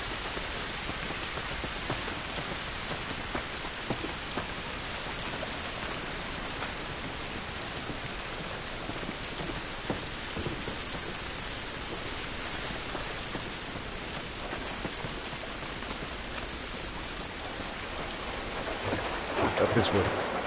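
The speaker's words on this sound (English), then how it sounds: "It's raining, but it's any good." Steady heavy rain falls outdoors in the video game The Last of Us, a dense even hiss lasting throughout with no breaks, loud and close.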